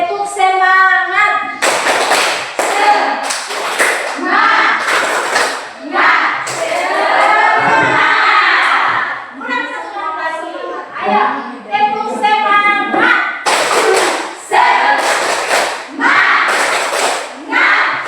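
A school class chants and claps through the rhythmic 'tepuk semangat' spirit clap, bursts of loud group clapping alternating with children's shouted chanting in a quick, patterned rhythm.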